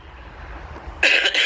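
A single harsh cough bursts out after a second of quiet room noise, followed by a brief second hack, close and loud.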